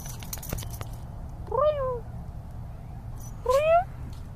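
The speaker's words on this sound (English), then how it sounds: "Look at this gorgeous kitty." A female cat gives two clear, fairly close meows about two seconds apart, each rising and falling, with quiet outdoor background between them.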